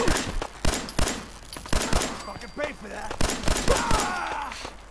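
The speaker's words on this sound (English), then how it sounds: "Gunshots! Survivors!" Rapid bursts of gunfire crack out in the Fallout 4 video game near Concord, a string of sharp shots in quick irregular clusters with faint voices between them.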